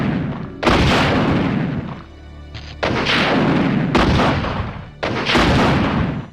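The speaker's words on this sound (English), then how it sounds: "The one weapon that breaks the original RE2 is this, the Infinite Rocket Launcher. Blow any enemy back to hell with as many rockets as you can fire." Rockets from the Infinite Rocket Launcher in the Resident Evil 2 video game firing in sequence: four loud, booming blasts, each followed by a sustained roaring rumble, with no speech.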